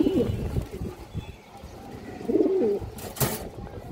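Pigeons, including a Sapchila and prize-winning birds, give a couple of soft throaty coos amid quiet shuffling and a brief clattering knock, fairly faint and close by.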